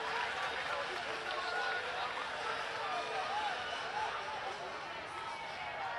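Baseball stadium crowd roars for a home run at a 2015 game, a loud, sustained wall of cheering that holds steady throughout, with a voice audible over the noise.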